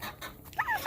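Chickens cluck in a short outdoor burst on a winter farm, a few bright calls close by near the end.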